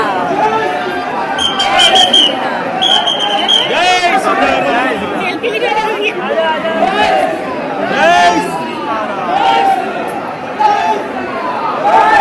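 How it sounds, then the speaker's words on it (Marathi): A crowd of devotees near a Rama temple cheers and chants in a loud, continuous, close mass of overlapping voices, with shouts rising and falling throughout. "बघा मंदिराच्या जवळ आल्यावर किती जल्लोष करतात लोक"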